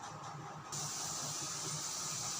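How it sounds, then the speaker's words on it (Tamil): A steady hiss with soft bubbling underneath as salted water reaches a rolling boil in a pot on a stove, heard close and fairly quiet, growing slightly fuller partway through. "தண்ணி நல்லா கொதிக்குது."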